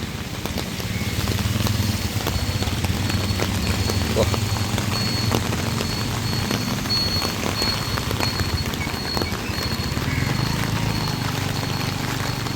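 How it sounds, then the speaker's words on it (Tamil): Steady rain falling and pattering on surfaces in Jaffna, a constant hiss with scattered drops and low rumbling background noise throughout. "மழை மெல்ல மெல்ல பிளக்க தொடங்கிட்டது"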